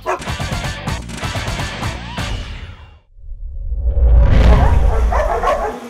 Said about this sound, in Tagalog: ang mga bawawaw nilang miyembro, ang Narcotics Detection Dogs o ang Canine Unit ng PDEA